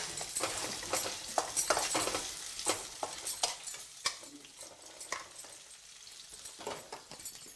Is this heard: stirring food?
yes